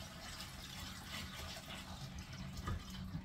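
Hands being washed under a running kitchen tap, with a faint, steady splash and trickle of water and a soft clunk near the end.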